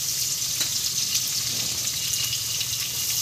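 Chopped onions fry in white oil with a loud, continuous crackling sizzle, close up and steady, and no voices.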